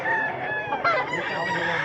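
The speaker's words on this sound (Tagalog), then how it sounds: "Mga nindot ug manok." Up close, a rooster crows one long, loud call, and other chickens cluck faintly in the background.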